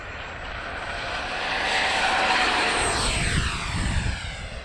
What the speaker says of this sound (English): F14 64 millimeter twin. This is his maiden flight.